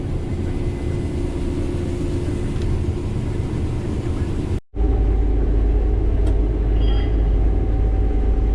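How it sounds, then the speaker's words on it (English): A truck arrives at a dusty, windy farm field near a regional airport, heard as a loud, continuous low rumble that drops out for a moment midway. "The truck finally made it."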